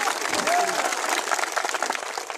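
A rally audience at a Bhim Army gathering in Damoh district claps together, a dense close burst of applause that continues steadily, with a voice briefly rising over it.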